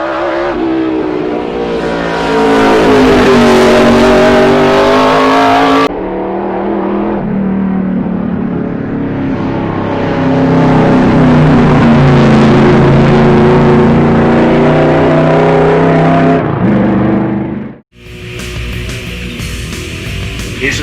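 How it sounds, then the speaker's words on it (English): Closed 1960s sports cars, including a Lotus Elan, race at Warwick Farm circuit in a 15-lap event. Loud, close engines roar and rev through shifting pitches in overlapping passes, with a sharp cut near the end. "Here's a 15-lap contest of closed sports cars."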